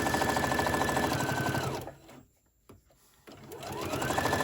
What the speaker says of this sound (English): you need to put these under your sewing machine